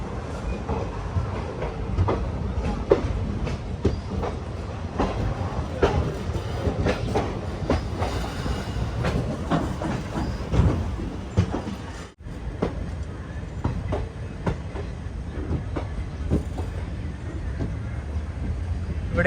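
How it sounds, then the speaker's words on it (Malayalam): Silchar to Agartala Express rolling out of Silchar station, a continuous close clickety-clack of wheels over rail joints with rattling carriage noise, a brief dip midway, and faint talk in the background. "സിൽച്ചർ റെയിൽവേ സ്റ്റേഷനിൽ കറക്റ്റ് 8:30 തന്നെ നമ്മൾ ട്രെയിൻ എടുത്തിരിക്കുകയാണ്"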